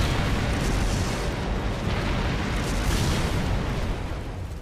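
A deep, rumbling explosion from Trails of Cold Steel fills the whole clip as a dense, sustained roar that fades slightly near the end.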